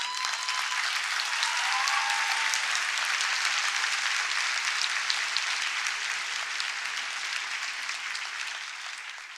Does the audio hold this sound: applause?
yes